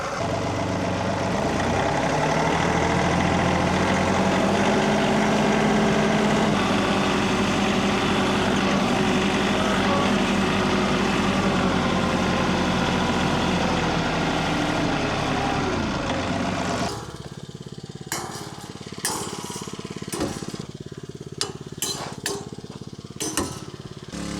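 A tractor engine runs loud and close with a steady droning hum out in a dry field during weed spraying, then cuts down to quieter idling with scattered clicks and knocks near the end.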